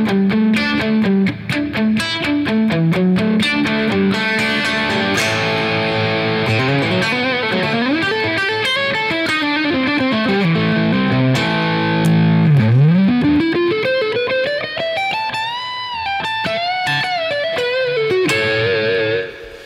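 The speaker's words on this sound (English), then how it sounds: "It's certainly more modern just to kind of palm mute and go." Palm-muted distorted electric guitar riff in a modern rock style, loud and continuous, with chugging muted notes and sliding, bending lead lines layered over the rhythm.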